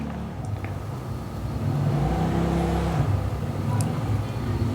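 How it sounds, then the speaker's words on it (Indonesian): A motorcycle rides past outdoors, its engine droning steadily and swelling louder toward the middle before holding at a strong level, with no talking over it. "Tunggu ya, ada motor lewat."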